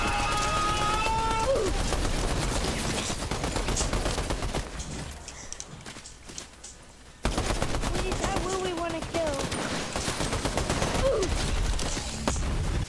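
Rapid bursts of automatic gunfire crackle through a Fortnite battle, loud repeated volleys with a brief lull midway before shooting resumes, with faint voices mixed under the shots.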